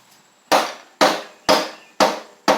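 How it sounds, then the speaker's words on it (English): Rubber mallet striking a riding mower's opposed-twin Briggs engine at the sump gasket, five sharp, evenly spaced knocks about half a second apart, close and alone, each ringing briefly before fading. "Grab my rubber mallet here and give it a couple of taps"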